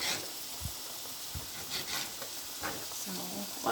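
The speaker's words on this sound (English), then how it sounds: "Still frying up nicely." Pork sizzles quietly in a pan for Cantonese-style rice, a soft, steady hiss broken by a few scraping stirs of a utensil.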